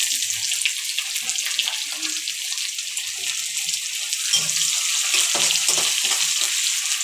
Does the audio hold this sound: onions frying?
yes